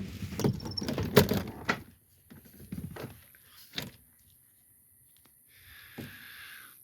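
A door being worked open during a thunderstorm, with a series of knocks, rattles and scraping bumps, then a soft hiss of outside air or rain near the end; sounds are close and moderately loud.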